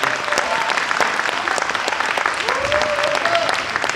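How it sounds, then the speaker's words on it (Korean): Steady applause from an audience at a public forum at Gyeongju University, continuous clapping at even volume throughout with a few brief tonal sounds rising above it. "다시 한번 뜨거운 박수 부탁드리겠습니다"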